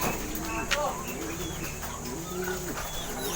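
Racing pigeons coo softly in low repeated murmurs, with a few chirps from other birds over a steady background hum.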